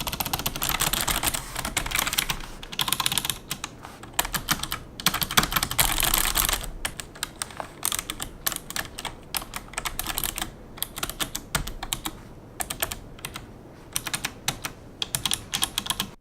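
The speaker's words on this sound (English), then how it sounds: "Nice and clicky, sounds like a normal mechanical keyboard, a lot of feedback" Rapid clicky typing on a Razer Ornata Chroma keyboard up close, a dense stream of crisp keystrokes with brief pauses, no talking.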